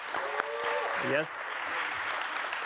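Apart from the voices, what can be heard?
audience applause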